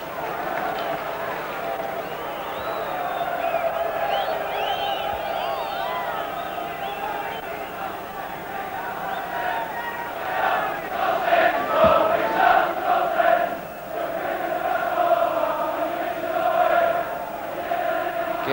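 Football crowd at a Leeds v Manchester United FA Cup third-round match in 1992, a steady roar of massed fans with shouts and chanting swelling around the middle, continuous and fairly loud throughout.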